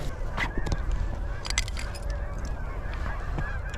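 Many geese honking together in a swamp, a dense overlapping chorus of calls near and far over a steady outdoor background, with occasional louder close honks.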